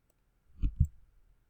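Computer mouse click and drag: two close, crisp clicks about a fifth of a second apart, followed by faint soft handling noise, in an otherwise quiet room.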